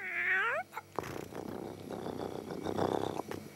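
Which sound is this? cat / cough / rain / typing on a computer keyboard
cat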